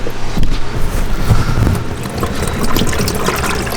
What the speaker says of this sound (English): Looks like we gotta drain the coolant